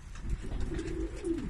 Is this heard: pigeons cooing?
yes